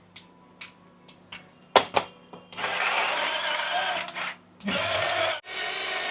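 Electric chopper finely chopping tomatoes in a home kitchen: a few short knocks, then a loud steady whirring motor burst that pauses briefly and resumes, close and dominant.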